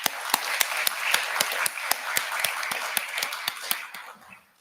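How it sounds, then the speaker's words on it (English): Audience applause at a seminar marking a bank's 60th anniversary: scattered, sharp claps ring out steadily over a crowd wash, then thin out and fade near the end. "I think that is worthy of a round of applause."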